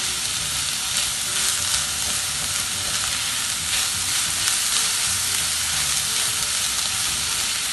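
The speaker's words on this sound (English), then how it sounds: "I'll keep mixing them so they don't stick" Spring onions sizzle and crackle in a hot frying pan as they are stirred, making a loud, steady hiss with faint scraping of the spoon against the pan, heard close and continuous.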